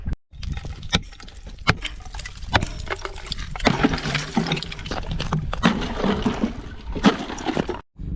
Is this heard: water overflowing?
yes